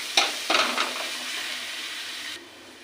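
Eggplant being stirred with ginger paste in a hot pan, with a couple of sharp scraping strokes over a steady close sizzle that drops away near the end.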